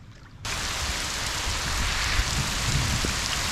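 Torrential rain pours down at a beach, starting suddenly as a dense, loud, steady hiss of drops hitting surfaces, with no talk.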